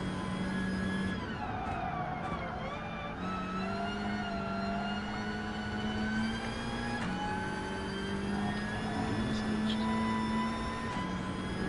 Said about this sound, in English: They made the turbo spool sound better.